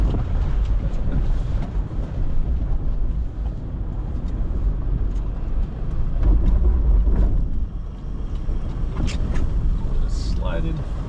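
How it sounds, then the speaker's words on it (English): Steady low engine drone with heavy wind buffeting, an off-road truck rolling slowly in first gear under engine braking on a trail, with rumbling and occasional clunks throughout. "I'm gonna pop into first gear now, get some engine braking going."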